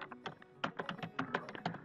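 Rapid clicks of a computer keyboard while someone writes code, with quick irregular keystrokes heard close and fairly quiet, and no talking.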